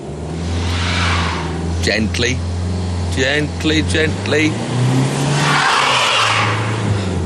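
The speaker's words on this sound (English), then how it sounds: "No matter what I tried, the front-wheel drive X-Type wasn't going up." Front-wheel drive Jaguar X-Type engine revving steadily as it struggles on an icy hill, a loud close drone with rising pitch, while someone talks over it.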